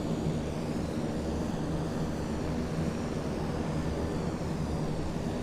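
An airliner's engines in Microsoft Flight Simulator 2020 drone as a steady, even, broadband roar throughout, with no voices.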